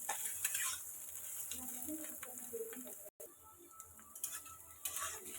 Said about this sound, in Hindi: थोड़ी देर हम और इसे भून लेते हैं, ताकि जो भी कड़वापन हो वो निकल जाए।